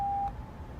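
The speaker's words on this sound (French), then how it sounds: "Veuillez laisser votre message après le bip." A single steady electronic voicemail beep tone, a clean mid-pitched sine held for about a third of a second before cutting off, leaving a quiet low room hum.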